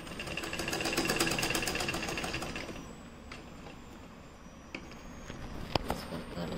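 Up close, a sewing machine runs in a steady mechanical whir with rapid ticking while it stitches a square neckline, then slows to quieter, uneven stitching with a few sharp clicks. No one speaks.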